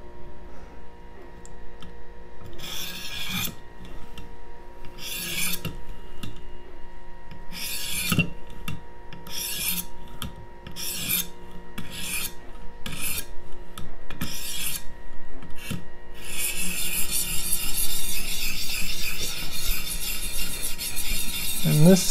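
Repeated rasping strokes of a blade along a sharpener while sharpening a USMC KA-BAR knife, about a dozen steady passes roughly a second apart, close and distinct, ending in a denser run of grinding as the burr comes off.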